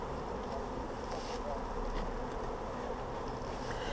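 A dense, steady buzz of many honey bees at a hive in a bee yard fills the air continuously, close by and moderately loud, with no talking.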